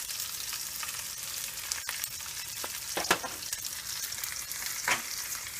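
A spoon stirs tomato sauce seasoned with oregano, basil and thyme in a pan, producing a faint steady sizzle with soft scraping strokes and no talk.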